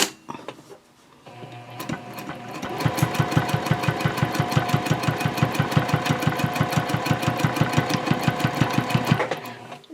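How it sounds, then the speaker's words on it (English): A sewing machine stitching a handbag tote, starting with a short pause and a few slow stitches, then settling into a fast, steady mechanical stitching rhythm close up that runs several seconds before stopping. "And then I'm going to pivot and sew down the other side."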